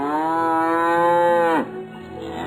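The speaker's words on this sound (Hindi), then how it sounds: "भूरी जोर से रंभाना शुरू करती है।" A cow moos loudly in one long, sustained low call that drops off near the end, followed by quieter ambient noise.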